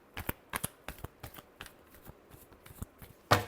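Tarot cards are shuffled by hand in quick, crisp riffles and taps, a run of sharp flicks ending in one louder snap, close and quiet with no talking.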